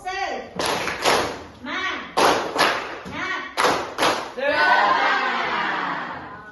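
A school class claps twice on the teacher's cue in an Islamic education lesson, three sharp double claps in a row, each pair followed by pupils shouting together.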